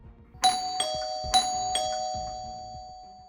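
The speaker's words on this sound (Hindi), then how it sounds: "घंटी फिर बजी।" A doorbell rings indoors twice, each press giving a bright ding-dong chime whose tone rings on and fades slowly, with no talking.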